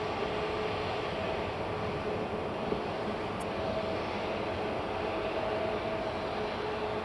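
An American Airlines A321neo airliner at Edinburgh Airport produces a steady, loud broadband jet roar with a faint tonal whine, continuous and unchanging throughout, heard at moderate distance with no talk.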